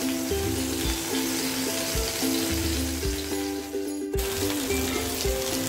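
Tandoori chicken pieces sizzle softly in a hot pan over a low gas flame. The hiss is steady and close, with faint bubbling and a brief dip near the middle, and no speech.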